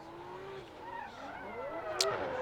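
Formula Drift Pro 2 qualifying run at St. Louis: tires squeal and skid as a drift car brakes and slides through the outside zone, with a rising engine note running steadily over the whole stretch.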